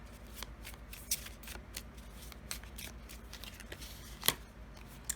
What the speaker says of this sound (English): Let's draw you a few final cards.